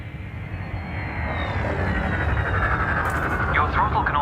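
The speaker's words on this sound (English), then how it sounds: "Now increase your throttle to accelerate forwards." Spaceship thrusters accelerating forward in Elite Dangerous, a steady roaring engine rumble that builds in intensity, with a rising whine and brief electronic chirps near the end, while a voice speaks over it.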